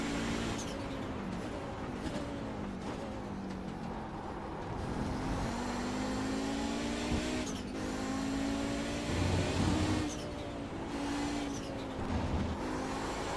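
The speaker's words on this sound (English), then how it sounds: "Sounds like a turbo car." A turbocharged racing car engine in the iRacing sim, a continuous drone with gear-change sweeps rising and falling in pitch and a sharp shift transient near the middle, moderately loud with no talk.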